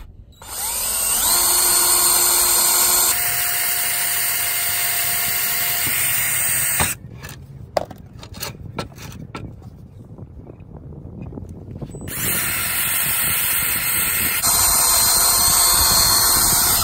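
A power drill boring pilot holes into a wooden garden gate, with sustained whirring bursts of several seconds each, close and loud, separated by quieter handling noise and clicks.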